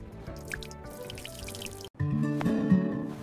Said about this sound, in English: Make the towel wet with water.